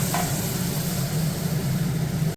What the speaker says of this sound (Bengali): এবারে মাংসটা চলে গেল ম্যাঙ্গেজ করা মাংসটা অনেকক্ষণ এটা দিয়েছিলাম চলে গেল এবং এটাকে ভালো করে কষাতে হবে